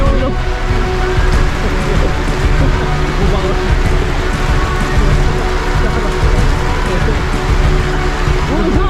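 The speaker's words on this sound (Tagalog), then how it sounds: "napakikipagsapalaran sa malakas na ulan" Heavy rain pours steadily over a campsite, a loud continuous wash of drops drumming on surfaces throughout, with a low rumble beneath.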